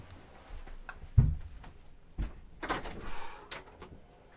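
A door opening indoors, a few soft knocks and a latch clunk, then a rustling creak and faint handling noises, close and fairly quiet.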